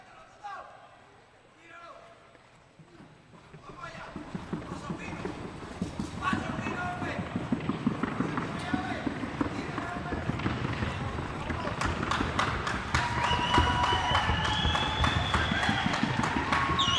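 Paso Fino stallion's rapid, even hoofbeats drumming on a wooden sounding board, a dense fast clatter that builds and stays loud and near, with an announcer's voice over it and crowd noise behind.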